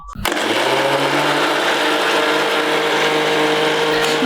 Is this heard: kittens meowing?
no